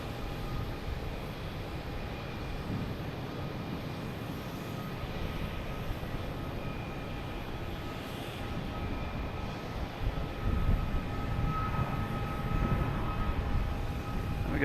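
A Delta airliner taking off from runway 9 at Boston Logan Airport, a steady broad jet roar heard from a distance, holding level and swelling slightly toward the end, with no voices.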